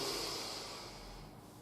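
A long, faint inhale of breath during a stress-relief relaxation exercise, airy and steady with a soft hiss that fades toward the end.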